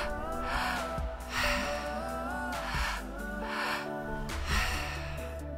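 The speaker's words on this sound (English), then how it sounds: "You're going to just let it be a circular breath" Slow, continuous breathing during a guided meditation, with loud airy inhales and exhales in long alternating waves of about a second or two each, close to the microphone over a low background hum.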